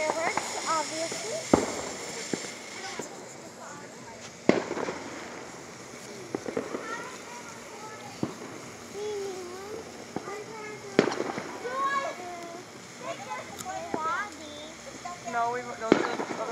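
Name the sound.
fireworks exploding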